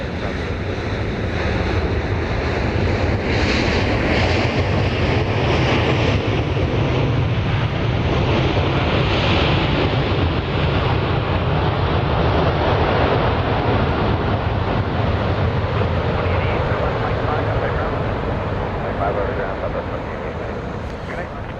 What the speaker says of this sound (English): There you see coming over the downtown district, Delta flight 2780 from Atlanta. This is a 717.